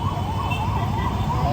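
An ambulance converted from a van sounds its siren in Rajkot, a loud wailing tone rising and falling continuously over low road rumble.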